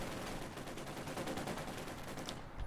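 Dense, continuous gunfire from a Company of Heroes 2 battle as Panzer Grenadiers engage Soviet shock troops, a rattling stream of rapid overlapping shots at a fairly low level.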